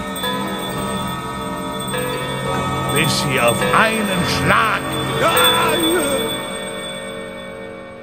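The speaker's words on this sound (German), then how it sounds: "Bald läuteten alle Glocken im Hause." Many bells ring together inside a house in a radio-play Christmas story, a sustained, layered metallic chime that builds louder while someone narrates over it.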